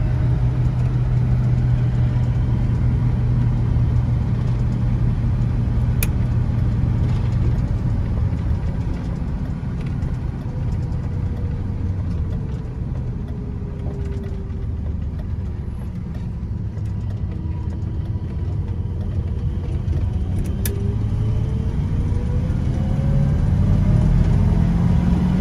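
Steady rumble from a 1984 Ford F-250 with a 460 V8 while driving, a continuous low drone with a slow rise and fall in engine pitch as the truck shifts and accelerates, heard from inside the cab.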